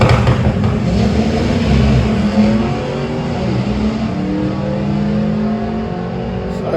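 A Vauxhall Corsa drag racing car makes a run at Santa Pod raceway. Its engine blares loud and close with a high rasping roar at first, then eases off into a lower, steadier drone as it heads away down the strip.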